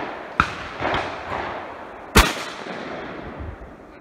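Two sharp shotgun blasts at a skeet range, the first lighter and the second loud and close, each with a short echoing tail over faint outdoor background.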